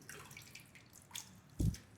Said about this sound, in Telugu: వాటర్ వెళ్ళిపోయి గట్టిగా పిండాలి.